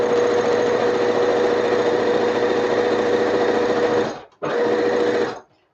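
A sewing machine runs fast and steady, stitching straight lines on an avant-garde dress, a loud close continuous whir that pauses briefly near the end before resuming and stopping.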